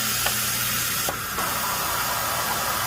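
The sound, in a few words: xTool D1 laser engraver air assist blowing at nozzle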